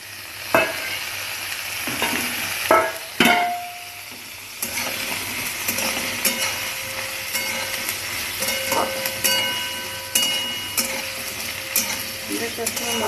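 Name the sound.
potatoes frying and stirred with onions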